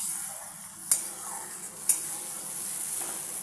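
Masala paste for a tangra fish curry, loosened with water, sautés in a pan under a soft, steady hiss, with two sharp clinks of the stirring utensil against the pan.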